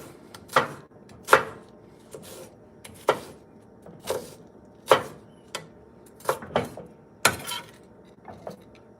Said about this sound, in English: I'm just excited to crush all these garlic bits